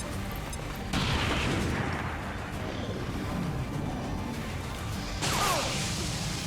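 Frag grenade explosions in XCOM 2, heard as two loud, broadband bursts about four seconds apart, each a sudden crash that rolls into a sustained rumble over a constant bed of game noise.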